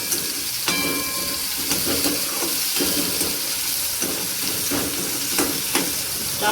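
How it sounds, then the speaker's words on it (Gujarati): Onion and tomato fry in oil in a pan over low gas with a steady close sizzle. Several soft stirring scrapes and clinks are spread through it. "ચાલો ધીમા ગેસે એને આપણે જરીક વાર શેકાવા દઈએ."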